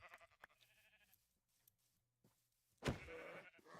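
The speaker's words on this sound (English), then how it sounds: "Hey, there's a pink sheep." Sheep in a block-building survival video game bleat faintly now and then, then one louder close bleat rises near the end over a quiet background.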